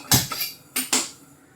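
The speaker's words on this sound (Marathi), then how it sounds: "आता मी पातेलं ठेवते. सर्वप्रथम गॅस पेटवूया." A cooking pot set down on a gas stove for heating milk, heard as a few sharp metallic clanks and knocks close by, with no talking.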